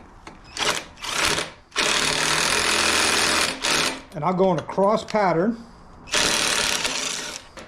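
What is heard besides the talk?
power tool tightening handlebar bolts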